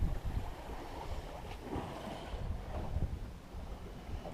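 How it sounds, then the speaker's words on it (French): Wind picks up at a sailboat anchorage off Corsica, a steady broadband rush with buffeting gusts on the microphone and water sloshing against the hull, moderately loud and continuous with no voices. "Là, 9h, le vent se lève comme hier."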